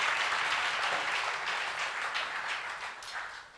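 A church congregation applauds, a steady wash of many hands clapping together that holds for a few seconds and begins to taper at the end.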